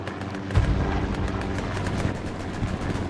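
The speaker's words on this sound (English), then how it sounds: "Airhead continues to spawn as Exodus artillery has started to come in." Artillery fire rumbles through a large-scale online multiplayer battle on the Carentan map, with deep booming impacts and a dense, continuous roar of distant explosions and gunfire.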